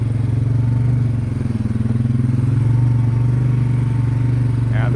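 An ATV engine runs steadily on a logging road through wooded property, a loud, continuous low idle-to-cruise drone close by with a faint rattle, holding level throughout without pause.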